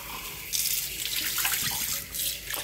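Water runs from a kitchen tap with weak pressure into a sink while a smoothie is prepared, a steady close hiss that swells in bursts and varies as the flow is adjusted, with no voices.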